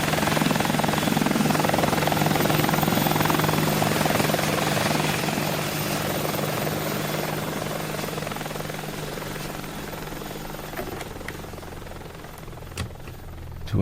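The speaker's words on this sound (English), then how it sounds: "You're on another chopper" Helicopter flying in a radio drama scene, a steady loud rotor and engine drone that slowly fades over about fourteen seconds, with no voices.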